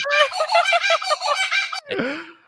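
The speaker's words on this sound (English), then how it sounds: "the correct answer is indeed a kookaburra" A kookaburra gives a loud, rolling cackle of rapid repeated notes that breaks off into a short, descending squawk at the end.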